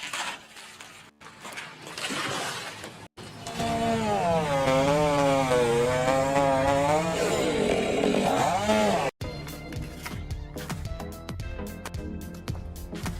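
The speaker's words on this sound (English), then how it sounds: "thanks to the chainsaw that quickly completed the job" A chainsaw cuts through trees in a forest, its engine snarling loud and close with rising and falling revs through the middle of the stretch, then dropping back to a rougher idle with scattered knocks toward the end.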